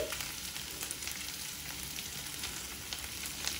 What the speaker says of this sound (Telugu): ఇప్పుడు మీడియం ఫ్లేమ్లో పెట్టుకుని వీటన్నిటిని కూడా వేయించుకోవాలి